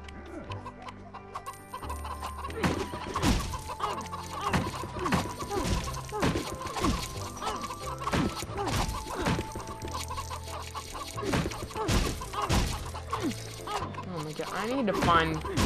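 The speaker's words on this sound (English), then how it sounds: "Some birds!" Chickens cluck repeatedly in The Lego Movie video game, short bird calls scattered over busy game music and effects, with a voice talking throughout.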